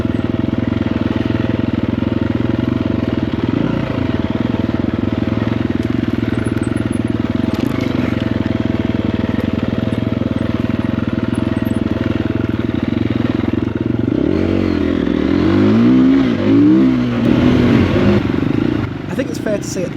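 Triumph TF250-E enduro motorcycles ride single-track trails, a steady loud engine drone running throughout with revving rises and falls near the end, and talk occasionally heard over it.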